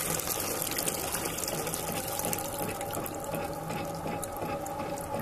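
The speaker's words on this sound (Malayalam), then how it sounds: "വെള്ളം ഓൾമോസ്റ്റ് ക്ലിയർ ആയിട്ടുള്ള വെള്ളമാണ് നമുക്കിപ്പോൾ വന്നുകൊണ്ടിരിക്കുന്നത്." Clear water runs in a steady, continuous stream out of a softy ice cream machine during its cleaning cycle, a close, even splashing flow with no pauses.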